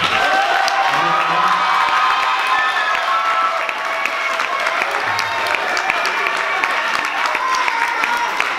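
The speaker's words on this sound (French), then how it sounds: "Donc vous pouvez les applaudir très fort." A festival crowd at a closing ceremony applauds loudly and continuously, with cheering and a few whoops rising over the dense clapping throughout.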